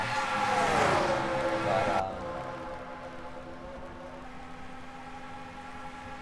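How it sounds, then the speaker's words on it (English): Stock car engines whine and roar together in a racing video game, a dense high-pitched pack sweeping past loudly, then dropping abruptly to a steadier, quieter drone as the cars move on, with a brief word spoken. "Engines screaming and roaring around the track here."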